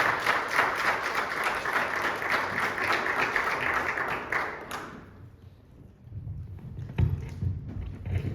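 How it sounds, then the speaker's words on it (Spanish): Strong applause from a church congregation greeting a speaker fills the first few seconds, then fades out, leaving quieter room noise and a few stray knocks. "Lo recibimos con fuerte aplauso"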